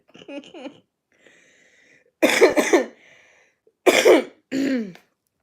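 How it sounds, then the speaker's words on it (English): A few harsh, raspy coughs in separate bursts, close up, with brief quiet gaps between them and some throat-clearing sounds at the start. "Still got a little bit of a cough."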